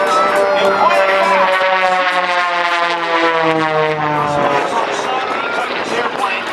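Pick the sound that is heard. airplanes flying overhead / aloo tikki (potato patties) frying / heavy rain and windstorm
airplanes flying overhead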